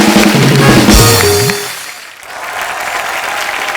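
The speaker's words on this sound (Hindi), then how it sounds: "ये दोनों बच्चों के लिए जोरदार तालियां हो जाएं एक बार।" A studio audience on The Kapil Sharma Show applauds loudly for two children. The clapping swells in after a brief tonal, voice-like sound at the start, then thins and carries on as a steady wash.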